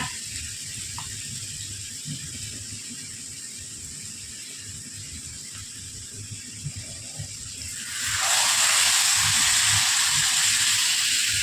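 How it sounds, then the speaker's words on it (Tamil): Marinated chicken coated in masala, cooked for Alfaham chicken, drops into a hot pan. After quiet kitchen background, a sudden loud, close sizzle erupts and holds as a bright, steady hiss. "இப்போ மசாலாவோட சிக்கனை உள்ளே சேர்த்து கொடுத்துக்கோங்க"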